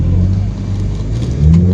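A car engine revving under throttle at a Goodwood media drive day, loud and close, with a steady engine drone that swells slightly at the end; a voice can be heard faintly under it.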